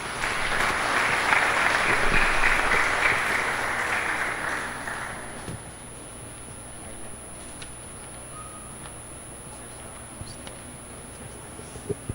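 Applause from a congregation at a Sunday Lenten mass in church, a dense wash of clapping for about five seconds that then fades out, leaving a quiet room with a few faint clicks.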